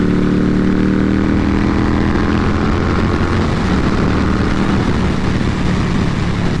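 Heavy wind roar buffets the rider of a 2020 Indian Scout Bobber motorcycle at speed, a loud, continuous rushing noise with the engine's low drone mixed underneath and no break throughout.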